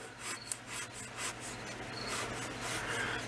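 Hand scraper rasping across a wooden workpiece in a home shop, a series of quiet rubbing strokes in a steady rhythm, close and alone.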